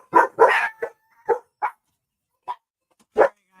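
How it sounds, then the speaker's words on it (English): Dogs bark excitedly as someone comes home: a cluster of rapid barks at the start, then scattered single yips and barks, fairly close and loud. "Daddy walked in the door and the dogs went crazy."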